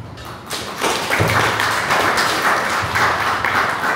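Hospital staff audience applauding after a speech, starting as a few close claps and quickly building into a loud, steady burst of clapping with some heavier thumps mixed in.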